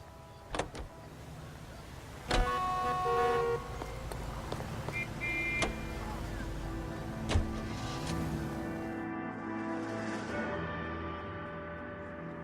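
A car drives through the city streets of the video game L.A. Noire, giving a continuous low engine rumble with a few sharp knocks and brief tonal blips over the drive.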